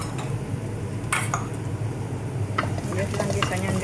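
Garlic sautéing in a pan for beef stew, a steady sizzle with a few sharp scrapes of a utensil against the pan and brief clinks, close and fairly loud throughout.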